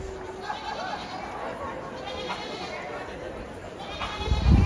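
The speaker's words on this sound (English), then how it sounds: "How did you bring your beautiful cashmere goats?" Cashmere goats at a sheep and wool festival bleat in wavering, quavering calls, several overlapping cries close by, with people talking throughout and a thump near the end.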